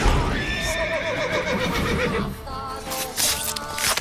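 A horse in a video game whinnies with a long, wavering neigh up close, followed by a second shorter call and faint hoof clatter.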